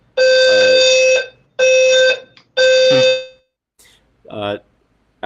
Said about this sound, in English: Alex got a fire alarm going off in his room